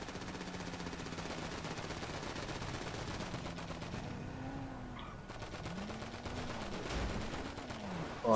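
Gunfire crackles in rapid, dense bursts during a GTA V Online session, with engine whine rising and falling underneath as vehicles or a helicopter move nearby. The shooting is steady and continuous, slightly distant, and no voices are heard.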